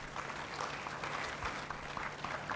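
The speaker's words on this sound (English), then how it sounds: "with a huge round of applause, let's welcome Alfred." Audience applause welcoming a speaker at a national ICT week event, a steady wash of moderate clapping from a crowd that holds evenly for a few seconds with no talk over it.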